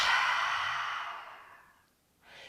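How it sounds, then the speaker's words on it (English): A long, forceful breath pushed out through the mouth with an open "ah" during a yoga breathing exercise, loud and close at first and fading over two seconds, followed by a softer inhale. "Breathe in through the nose and out, say ah."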